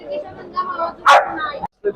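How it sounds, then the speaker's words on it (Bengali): A single sharp dog bark rises over nearby talking at a livestock exhibition fair, with other people's voices continuing around it. "সবচেয়ে ছোট কুকুর এই দেখেন"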